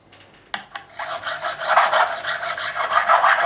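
A profiling file rasping along the frets of a 2008 Gibson Les Paul Custom, starting with a few light taps and then settling into steady, close, rhythmic back-and-forth strokes.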